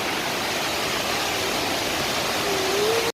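Palovit waterfall near Çamlıhemşin in Rize, a loud, constant roar of falling water heard close by, with a faint tone rising near the end before an abrupt cut.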